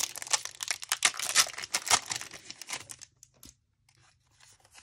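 Pokémon card booster packs torn open by hand, a dense run of crinkly foil ripping and crumpling up close for about three seconds, then dropping to near silence with a few faint rustles.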